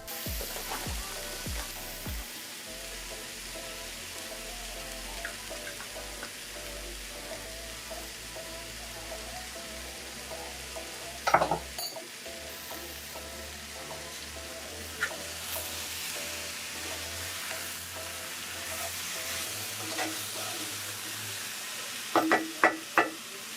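Mango tarkari sizzles and fries in a pot with salt, brown sugar and black amchar masala as it is stirred, a steady frying hiss running throughout with occasional louder scrapes and clatters of the spoon.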